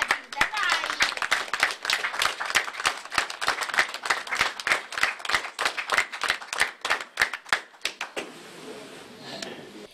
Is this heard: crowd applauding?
yes